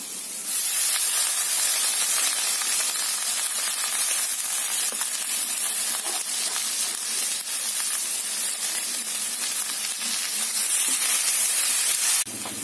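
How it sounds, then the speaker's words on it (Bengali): Drumstick leaves go into a pan of half-cooked frying potatoes, setting off a loud, steady sizzle and hiss that fills the whole stretch with no talk. "আলুটা আমার ভাজা ভাজা হয়ে গেছে একটু সেদ্ধ হয়ে গেছে এবার আমি শাকটাকে দিয়ে দেবো"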